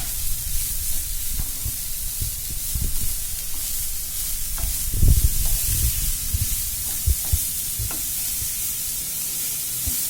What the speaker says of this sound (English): Put the gas on high flame, give it a stir and mix it.